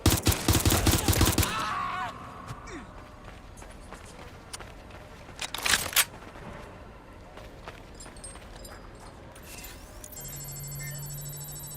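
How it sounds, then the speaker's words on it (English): Gunfire in the Watch Dogs Legion video game: a loud rapid burst of automatic shots opens, followed by scattered single shots, footsteps and another sharp cluster of fire midway, then quieter game ambience with an electronic tone. "They won't stop shooting."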